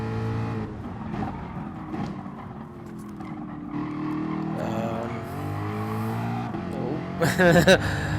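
Race car engine in the Gran Turismo Sport video game during a manufacturer series race, a steady tonal drone that rises and falls as the throttle is worked, swelling louder near the end, with a voice talking over it.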